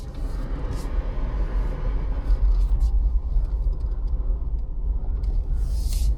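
Cabin noise inside a 2024 Jeep Wrangler 4xe Rubicon driving slowly with the windows up on Kauai, a steady loud low rumble and road drone with faint higher whirs, no talking.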